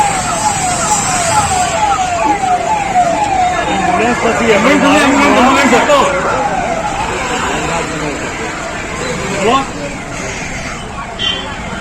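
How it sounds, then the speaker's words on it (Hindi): An ambulance siren wails, rising and falling nearby amid Varanasi street traffic noise, loud and continuous, while voices talk over it. "एम्बुलेंस होती है सर, एम्बुलेंस है।"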